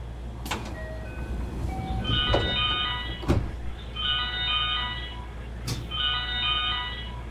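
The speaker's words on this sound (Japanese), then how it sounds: "ドアが閉まります。" The doors of a JR 223 series train close in the BVE5 train simulator game with sliding door thumps. A repeating electronic chime plays between the thumps and a steady hum runs underneath.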